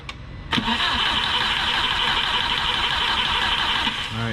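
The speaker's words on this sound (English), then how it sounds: "what we're trying to do right now is not turn on the car, is prime the engine for oil pressure" A car engine fitted with a big turbo is cranked over by the starter to build oil pressure without firing, a steady loud whirring drone lasting about four seconds after a click.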